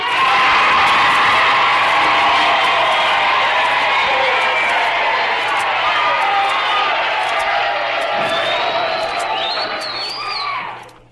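A large crowd at a 1950 high school sectional championship pep rally cheers and roars steadily and loudly for several seconds, with whoops and a few birds audible before the noise fades out at the end.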